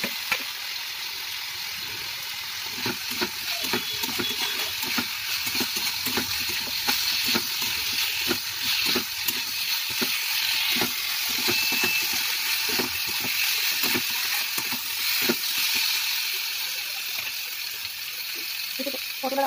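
Potatoes and tomatoes frying in a pan with ginger, garlic, green chilli and spices, a steady hissing sizzle broken by rhythmic scraping of a spatula stirring, close and continuous.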